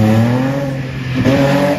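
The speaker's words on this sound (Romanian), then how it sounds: "un derapaj frumos și bine menținut" An Audi R8 rally car drifts during the Super Rally Bucharest 2022: a loud, close, sustained engine roar whose pitch drifts and rises slightly over a short burst.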